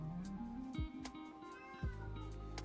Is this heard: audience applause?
no